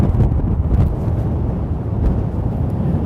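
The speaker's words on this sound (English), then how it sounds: "Wow, it's super windy." Strong wind blows outdoors on a New York City street, a steady, heavy low roar of gusts buffeting the microphone throughout, with no voices.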